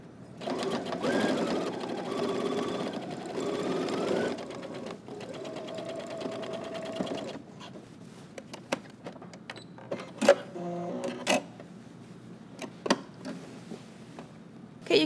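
A sewing machine topstitches the fly front of suit pants, running in long steady bursts at first, then in short stop-start runs with pauses between stitches.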